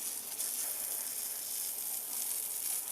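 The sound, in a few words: garden hose rinsing down a car tire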